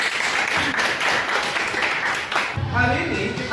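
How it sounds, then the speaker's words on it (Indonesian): Classroom of ninth-grade students clapping hands together at the start of an Islamic religious education lesson, a dense burst of applause for about two and a half seconds, then a voice speaks over fading claps. "tepuk tangan buat kita"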